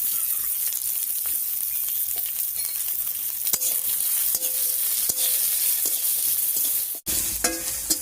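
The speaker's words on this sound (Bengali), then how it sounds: "সব মশলাগুলো হালকা করে ভাজা হয়ে গেছে" Dried chillies, garlic cloves, ginger and chopped onion fry in hot oil with a loud, continuous close-up sizzle, broken by occasional stirring scrapes and taps, ending in a brief cutoff.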